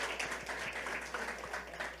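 A church congregation claps together in a dense, steady burst of applause that stays fairly loud and even through the whole moment, with no voices standing out.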